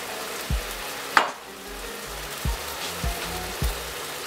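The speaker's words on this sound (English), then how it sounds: "I'm putting in a bit of tomato sauce in there" Rice frying in a pan as tomato sauce goes in, with a low steady sizzle broken by a few soft thuds and stirring knocks, plus one sharper splash-like burst near the start.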